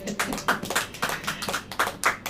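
A church congregation claps hands during a Hindi-language sermon, a quick run of roughly a dozen fairly steady claps blending together at moderate distance.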